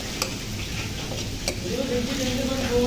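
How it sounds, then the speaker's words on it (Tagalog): Garlic browns in a pan for laing, giving a soft, faint sizzle with scattered ticking and clicking stirring sounds throughout. "Hintayin muna natin mag-brown-brown yung bawang para lalagay natin to."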